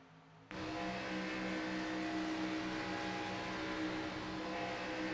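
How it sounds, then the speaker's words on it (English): Stock car engine in an Xfinity Series racing video game at Atlanta, droning loud and steady with a constant tonal whine after a brief quieter start, the throttle easing slightly without a clear drop. "You hear him have to lift as that car gets a little bit tight on the outside"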